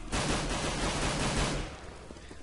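Sustained automatic gunfire in the video game CS:GO, many players firing nonstop at a zombie, a dense loud barrage that thins out toward the end.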